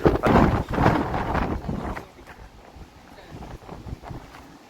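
Strong wind at a wind turbine site in Chathuranga para, a loud, rough rumbling gust buffeting the microphone for about two seconds, then easing to a quieter, fluttering breeze.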